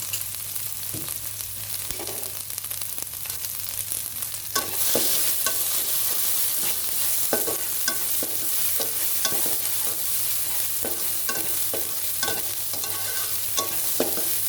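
Pork belly stir-fried in a wok with shrimp paste, garlic and chilli gives a steady close sizzle, broken by repeated scraping stirs of the spatula. The frying grows louder after a few seconds.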